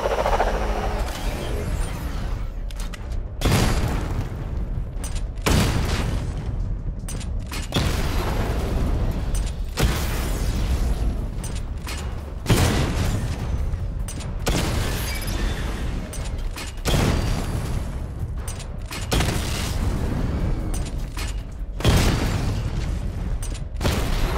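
Missile barrage in Batman: Arkham Knight: repeated heavy booming explosions with mechanical rumble, arriving in regular waves every few seconds, loud and dense throughout with no talk.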